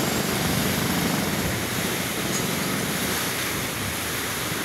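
Rough sea waves breaking along the Dipolog City boulevard shore under low-pressure weather, a continuous dense wash of surf noise, loud and steady with no distinct breaks, no voices.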